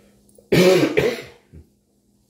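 A single harsh, near cough with a throat-clearing rasp breaks sharply into an otherwise quiet room, trails into a smaller follow-up hack, then falls silent.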